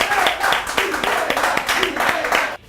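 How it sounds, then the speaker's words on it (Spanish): Clapping in a TV talk show studio, a run of quick sharp hand claps repeating rhythmically under a speaking voice, stopping abruptly near the end. "Así que fuerte las palmas."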